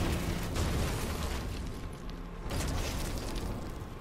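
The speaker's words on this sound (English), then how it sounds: "that was a big explosion" A big explosion booms aboard a derelict freighter in the video game No Man's Sky, a rumbling, roaring blast that swells, dips briefly, then surges again, fairly loud with no talk.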